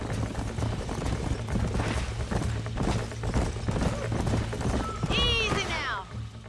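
Horses in Red Dead Redemption 2 walking with steady clip-clopping hooves, ending in a brief whinny near the close, all over a constant game backdrop.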